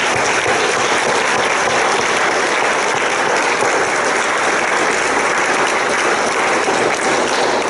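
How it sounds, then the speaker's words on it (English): Dense, steady applause from a conference audience at an IVF specialists' meeting in Northern Cyprus, loud and continuous with no break for the whole stretch. "So I'd like to give you a big round of applause."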